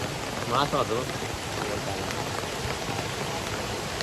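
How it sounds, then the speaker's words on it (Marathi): Soft, constant patter of rain as a steady wash of noise, with a brief murmur near the start. "पाऊस आहे ना अजून थांबायचं नावच येत नाहीये"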